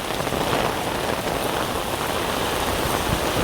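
Heavy monsoon rain pours down in Ashagad, Dahanu, a dense, steady hiss of drops on surfaces that stays loud and even throughout, with no voices.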